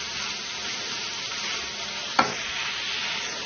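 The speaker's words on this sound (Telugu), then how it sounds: "ఇప్పుడు దీనిలో ఉప్పు, పసుపు వేసుకొని బాగా కలుపుకోవాలి." Prawns stirred with salt and turmeric in a pan for a gongura curry: an even, moderate sizzle runs throughout, broken by a single sharp clink partway through.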